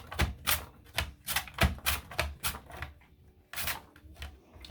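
Carrots are sliced on a mandolin over a cutting board, a quick series of sharp rhythmic swipes and clacks in bursts, close and fairly crisp.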